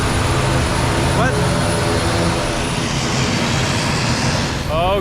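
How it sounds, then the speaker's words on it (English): An airplane taking off near a tropical airport with greenery, its steady broad engine roar filling the scene throughout, loud and continuous with brief chirps from birds or wildlife over it. "There's a plane taking off."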